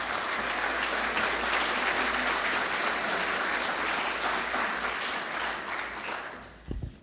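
A symposium audience on youth concussion applauds two speakers in a sustained, dense burst of clapping that holds steady for several seconds, then fades and stops near the end.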